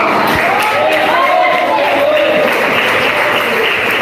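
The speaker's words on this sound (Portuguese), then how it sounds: "Palmas para Jesus, igreja." Church congregation clapping for Jesus during a service, dense sustained applause filling the space, with a preacher's voice carrying over the top.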